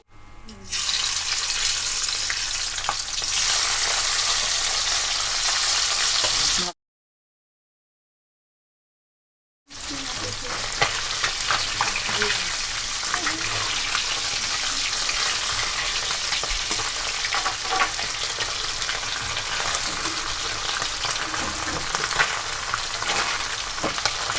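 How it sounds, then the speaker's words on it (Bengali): Tengra fish frying in a pan of oil, with a loud, continuous close-up sizzle and spattering that is briefly cut off by a few seconds of silence before resuming just as strongly. "এইভাবে আমি প্রত্যেকটা মাছ ভেজে নিয়ে তারপর ফিরে আসছি"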